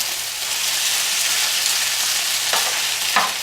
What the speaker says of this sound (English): And now we added some eggs to the noodle fry here.